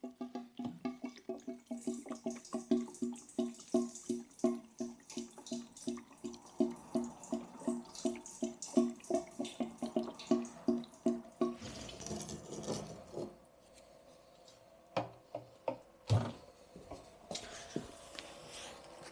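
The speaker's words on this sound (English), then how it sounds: "I'm gonna pour some petrol in now" Petrol glugs in rapid rhythmic pulses as it is poured into a hollow VW van fuel tank, the gurgling slowing and fading before a few final splashes.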